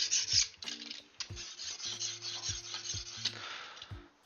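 A blade carves and scrapes through foam in short repeated strokes, a close raspy rubbing with brief pauses between passes and no talk.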